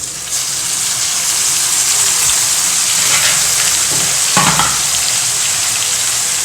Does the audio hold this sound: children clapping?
no